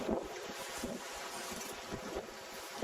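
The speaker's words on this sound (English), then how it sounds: "It's blowing about 20 knots now" Gusty wind of about 20 knots roars steadily across the microphone on a small boat, with faint water sloshing beneath and occasional stronger buffets.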